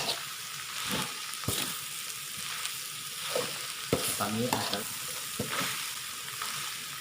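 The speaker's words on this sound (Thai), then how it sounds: "เราต้องใช้ไฟอ่อนทุกครั้งนะครับ ในการ โยนไก่ครับ" Chicken stirred and tossed in a hot wok over low heat for Thai salted chicken, with steady frying sizzle and repeated scraping and clanking of the spatula against the pan, close up; a voice speaks briefly.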